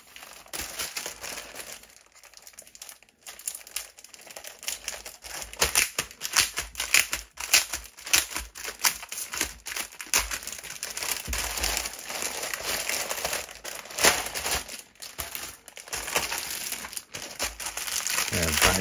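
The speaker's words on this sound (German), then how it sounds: "3 Tüten aufgemacht, 3-mal den Weißen drin." Plastic blind bags of Lego Ninjago minifigures are torn open and crinkled close up in a continuous stream of crackling and rustling, with occasional pauses and louder bursts.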